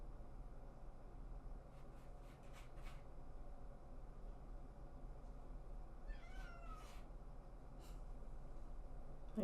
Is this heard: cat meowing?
yes